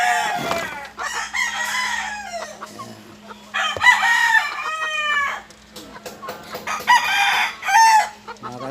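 A rooster crows loudly several times among clucking chickens in a backyard coop, the calls close and overlapping with brief gaps between them.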